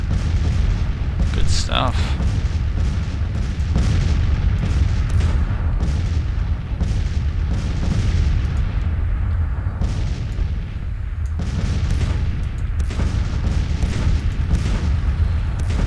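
Rifled 12-pound artillery pieces firing in a Civil War strategy game, booming shots recurring through a dense battle din while someone talks over it.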